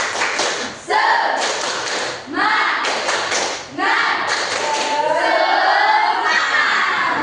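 A school class performs the 'tepuk semangat' rhythmic clapping chant, bursts of many small hands clapping in patterned groups along with children's shouted chanting, loud and close in a classroom.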